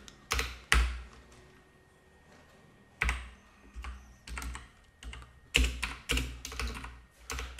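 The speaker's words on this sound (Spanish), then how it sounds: "que este teclado me vuelve loco" Bursts of rapid key clatter from a computer keyboard, close and fairly loud, come in irregular clusters separated by short pauses, with no talking.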